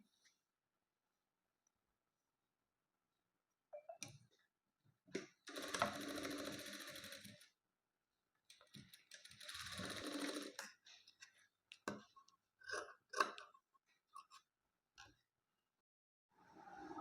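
A sewing machine stitches a small piece of cloth onto a handmade tassel, running in two sustained bursts of whirring stitching separated by a pause, followed by shorter stop-start runs and clicks, close and fairly loud with no talking.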